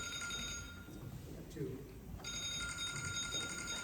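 A phone rings during a city council candidate climate forum, repeating tones that break off briefly midway and then resume, heard under people talking in the room.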